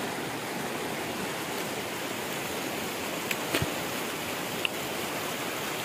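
A forest stream near Mayar in Mudumalai rushes in a steady, unbroken hiss of flowing water, even and fairly close, with a couple of faint brief knocks over the constant wash.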